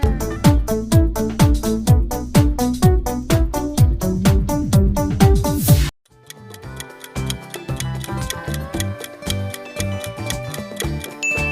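A Coolpad mobile phone ringtone plays: first a run of sharp, evenly spaced percussive plucks, then after a brief break a quicker ticking electronic melody, crisp and up front with no voices.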